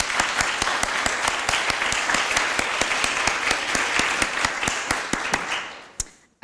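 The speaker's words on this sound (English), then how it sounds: "One more round of applause for our speakers." An audience claps for the speakers at a Winterthur Program in American Material Culture thesis presentation, an evenly spread round of applause with sharp individual claps standing out, fading out near the end with one last clap.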